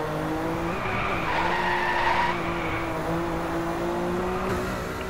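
A BMW M4 drifts in the racing game DriveClub, its tires squealing in a long sustained screech over the steady engine hum, loud and continuous without talk.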